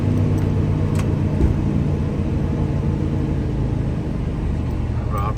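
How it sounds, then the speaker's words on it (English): A fuel-injected 1987 Chevrolet K20 truck engine running, a loud close steady rumbling idle with a low throbbing hum and no pauses, no talking. "We're going to start up our 87 K20 here"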